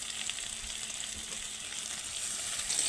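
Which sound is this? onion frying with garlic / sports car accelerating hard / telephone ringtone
onion frying with garlic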